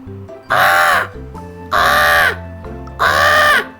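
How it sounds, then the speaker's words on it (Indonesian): Three loud, harsh eagle screeches ring out close by, evenly spaced with short pauses between them. "Itu suara burung elang."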